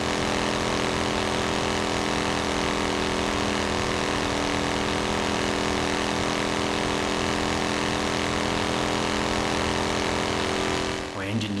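An engine idles roughly and unevenly at a constant level, a steady droning hum with a slightly lumpy pulse that continues without a break until a brief shift near the end.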